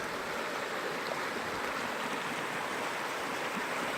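A babbling brook flows over rocks in Colorado, a steady close rush of water with constant splashing texture and no voices.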